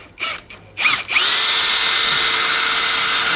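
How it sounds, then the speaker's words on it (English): Pneumatic impact gun on the brake caliper bolts of a Toyota Corolla: a few short bursts, then one sustained loud whirring run close by, with no voices. "Get a socket with your gun, put it there, and go slow first, and then go ahead, just let it go back and forth"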